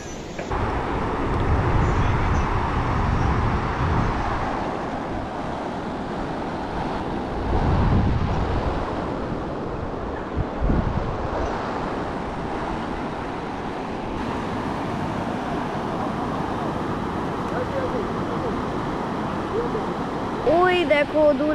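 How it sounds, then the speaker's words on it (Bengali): Waves break on a beach on the sea, with a steady wash of surf under gusting wind buffeting the microphone, and a few louder surges rise out of the ongoing roar. "সমুদ্রে আজকে ঢেউ প্রচুর"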